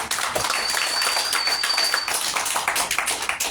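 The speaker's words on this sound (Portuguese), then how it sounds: "Aplauda o Senhor por isso." Congregation clapping during a church worship service, a continuous bright patter of many hands with a faint sustained tone running under it for a while.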